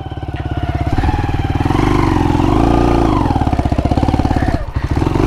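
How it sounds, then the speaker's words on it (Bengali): A motorcycle engine held at a locked, steady high RPM while riding over red dirt, a loud, close, continuous throbbing drone with slight rises and dips in pitch. "বাইকটা এত জোরে চলতেছে, আরপিএম আমি লক করে রাখছি"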